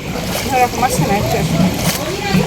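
Non-motor boat on Phewa Lake, with water splashing and sloshing against the hull close by under continuous voices of people talking aboard.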